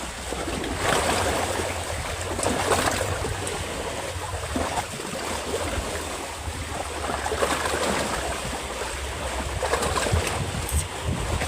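Ocean waves during a fishing trip, a steady broadband wash and rumble with gentle swells in loudness, mixed with wind noise on the microphone and heard continuously without talk.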